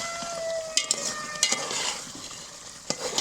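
Beef frying in a pot over a clay stove as cumin powder is stirred in: a soft, steady sizzle with occasional sharp spoon scrapes and taps against the pot, close up.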